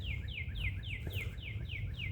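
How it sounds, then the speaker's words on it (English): Small birds chirp outdoors along a hiking trail, a quick repeating series of bright descending tweets at an even rhythm, heard at moderate distance over low rumbling background noise. "The birds chilling, doing their own thing."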